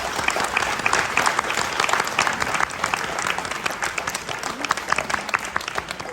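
An audience at a Buffalo Soldiers award banquet applauds the awardees, with many hands clapping steadily and crowd murmur mixed in throughout.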